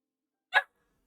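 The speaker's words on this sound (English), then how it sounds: "Why are you barking at me?" A single short bark from a pet dog, fairly close and clear, with silence before and after.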